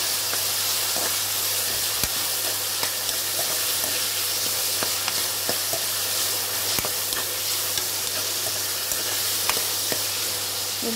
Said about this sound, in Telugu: ఉల్లిపాయ ముక్కలు, అలాగే మనం కోసి పెట్టుకున్నాం కదా టమాటా ముక్కలు, జీడిపప్పు అన్నీ ఉన్నాయి కదా, అవన్నీ వేసి